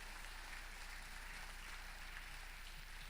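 A church congregation applauds in a steady, even wash of clapping that holds at a moderate level throughout, sounding somewhat distant and filling the room without any voices over it.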